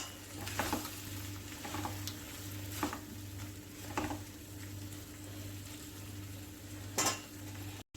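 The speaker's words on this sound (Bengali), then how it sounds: "এখন আমি এই মিক্সির বাটিটা ধুয়ে একটু জল দিয়ে দিচ্ছি।" Water swirls and splashes in a mixer grinder jar being rinsed in a kitchen, with soft intermittent sloshes and clinks over a steady low hum, close by and moderately quiet, no talking.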